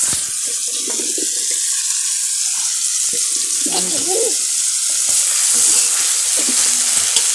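Wild forest mushrooms frying in a pan during village outdoor cooking, a loud, steady, watery hiss and sizzle throughout, with faint voices briefly murmuring underneath.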